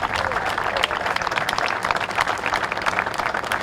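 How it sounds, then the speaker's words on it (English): A crowd applauding steadily at Yellowstone National Park, dense clapping that holds at an even level throughout, with faint voices mixed in. "Give Rebecca a round of applause."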